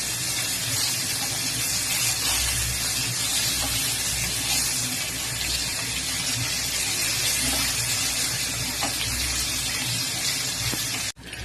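Fish frying in hot oil in a pan for an Assamese fish curry, heard as a steady, close sizzle and crackle of bubbling oil that runs continuously without pause, with no one talking.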